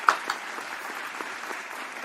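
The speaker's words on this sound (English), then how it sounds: "Hand clap for y'all one time." Faint, sparse clapping from a few hands during a sports podcast, a handful of soft scattered claps over about two seconds, quiet and somewhat distant.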